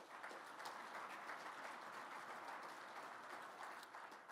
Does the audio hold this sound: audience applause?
yes